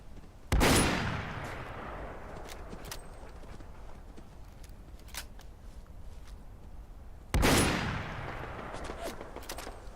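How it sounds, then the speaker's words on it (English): Two loud gunshots, several seconds apart, ring out in the video game Fallout London, each cracking sharply and then trailing off, with faint clicks and ambient game noise between them. "You can shoot at me all day."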